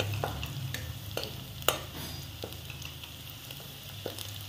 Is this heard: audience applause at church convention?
no